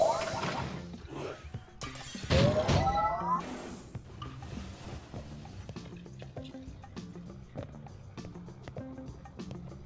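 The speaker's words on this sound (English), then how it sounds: "I love breaking glass." Glass shatters in the video game Quantum Conundrum, with a sharp crash and tinkling breakage around the middle, set among other clattering game effects and background sounds.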